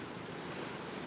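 Pacific Ocean surf at Monterey, California, rolls in as a steady broadband wash, with wind buffeting the microphone over the whole short stretch.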